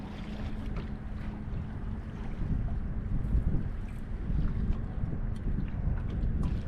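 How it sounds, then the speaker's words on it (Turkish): Wind buffets the microphone aboard an anchored fishing boat, a continuous low rushing rumble with gusty swells, alongside faint creaks and water movement. "Rüzgar esmeye başladı."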